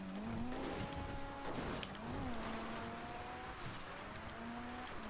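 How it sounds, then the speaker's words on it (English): A car engine in GTA 5 whines and revs in a changing pitch, rising and falling through gear shifts, faint and steady across a few seconds. "the car sounds sick"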